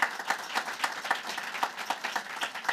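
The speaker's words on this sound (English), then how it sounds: "we ought to give a big round of applause to Karen Holmes Ward" Audience applause for a guest at a tenth-anniversary panel discussion, steady rhythmic clapping from a modest crowd throughout the short stretch, with no talk over it.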